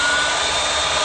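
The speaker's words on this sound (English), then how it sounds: "So then you use the heat gun to" Heat gun blowing hot air onto heat shrink tubing over a wire end, a steady loud close-up whooshing roar with no break.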